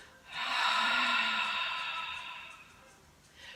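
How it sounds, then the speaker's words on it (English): A single big exhale during a chair yoga session, a breathy rushing breath that swells quickly, holds and slowly fades, heard alone and close. "take what's called falling out breath"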